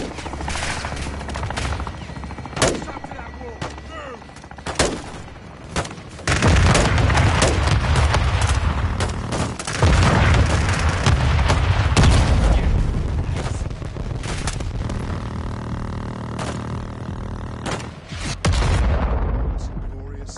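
Air strike in the Modern Warfare II campaign: bursts of gunfire, then a long stretch of heavy rumbling explosions and booms, with more sharp shots and blasts toward the end. Radio-style voices talk under the combat noise.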